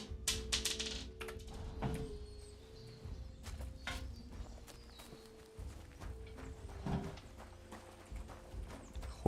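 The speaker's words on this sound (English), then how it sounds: "Horse." Horse hooves in the video game Kingdom Come: Deliverance 2 clop at a walking pace on hard ground, with irregular thuds and scattered knocks, fairly quiet against a faint background.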